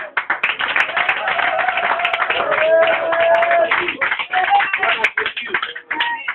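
Dense crowd applause and clapping at a church service fill the space steadily, with voices and cheering mixed through the noise.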